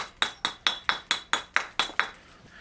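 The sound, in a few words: flint knapping strike with a hard hammerstone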